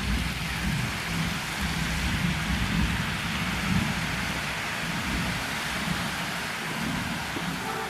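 Sev frying in hot oil for a spicy mixture snack crackles with a dense, steady hiss, a constant sizzle with no pauses.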